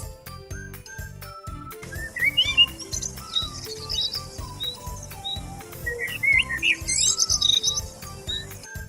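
Birds chirp and tweet in quick bursts over a tinkling, rhythmic musical backing, the calls scattered and fairly close.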